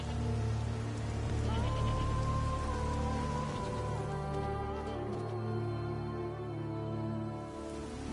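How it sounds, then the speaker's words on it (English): Steady rain patters in a PS4 video game, a constant soft hiss under tonal game sounds and a low droning voice. "There's no point standing here in the rain."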